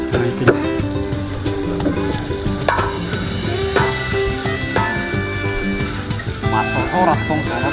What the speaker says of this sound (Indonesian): kita mulai menggoreng. Masuk bawang merah